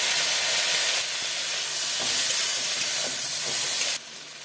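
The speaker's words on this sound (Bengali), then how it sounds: "আমার সর্ষেটা ভাজা হয়ে গেছে কষা" Flat beans fry in mustard paste with turmeric, green chillies and salt, a dense, even sizzle and hiss close up, with faint stirring knocks and no speech.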